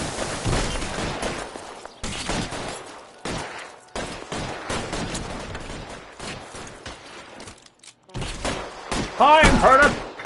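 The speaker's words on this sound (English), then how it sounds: "Time for the Tommy gun!" Tommy gun gunfire in LA Noire during a shootout with stick-up robbers: repeated loud bursts of automatic fire separated by short pauses, with shouting and other game sounds mixed in.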